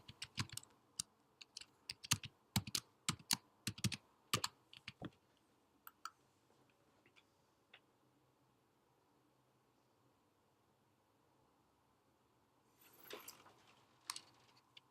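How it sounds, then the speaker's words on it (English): Credentials typed on a computer keyboard: a run of crisp, irregular keystrokes close by for several seconds, trailing off into a few isolated clicks, then a brief soft rustle near the end. "I have to type it in"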